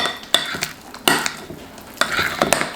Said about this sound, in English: Now you want to mix this thoroughly